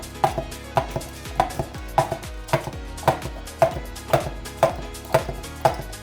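Egg and milk mixture for a cheese strata being mixed, with a steady run of sharp, evenly spaced taps against the bowl, about two per second, close and clear.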